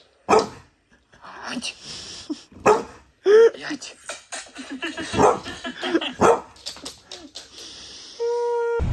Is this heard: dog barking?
yes